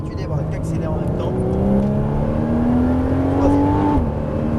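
A Porsche Cayman S pulls hard on a race circuit, the engine note climbing steadily in pitch through a gear before a quick drop at the shift, loud and close inside the cabin, with a voice talking over it.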